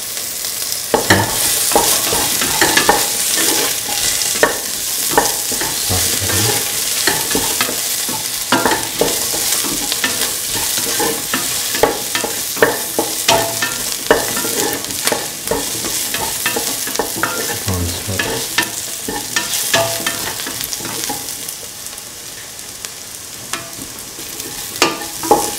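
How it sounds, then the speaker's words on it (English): Potato pieces and green chili stirred in a hot frying pan, a steady sizzle with repeated scraping and clacking of the spoon against the pan, close and continuous with no talking. "Sort of mix the potatoes"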